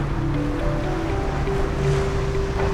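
Steady loud rush of water and wind from a powerboat spectating an evening sailing race, a continuous wash of spray and hull noise with a low engine drone underneath, no voices.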